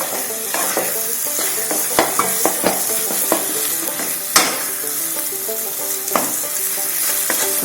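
Roasted chicken masala for a traditional South Indian curry sizzles steadily in a pan, with a spoon scraping and knocking against the metal in scattered strokes, close and loud, with no talk.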